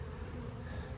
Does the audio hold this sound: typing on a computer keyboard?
no